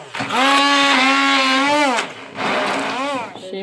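A blender blending quince whirs loudly with a steady motor whine for about two seconds, stops briefly, then runs again in a second shorter burst.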